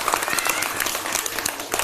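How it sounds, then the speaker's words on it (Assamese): A group claps along as a children's song about colours begins, a quick run of sharp hand claps at moderate level with faint voices in the background. "এটা হাত চাপৰি মাৰি দিয়া।"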